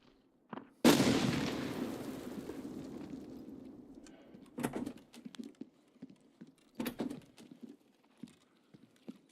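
Grenade explosion in Escape from Tarkov, a single sharp blast that decays slowly with a long rumble, followed by scattered clicks and distant taps.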